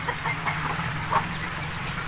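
Aseel chickens, including a hen with chicks, cluck softly in a cage setup, a few faint, scattered clucks over a steady low background hum.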